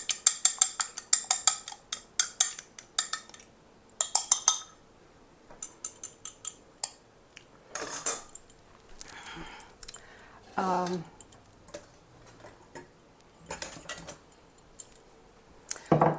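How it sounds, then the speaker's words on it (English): A fork slightly beats three egg yolks in a bowl for butterscotch pie filling, making quick, close, bright clinks in bursts with short pauses between them. "I'm going to add 3 egg yolks. I'm going to slightly beat these."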